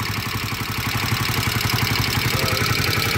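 A motorcycle engine with a worn connecting rod idles close by with a rapid, uneven knocking clatter pulsing through its steady beat.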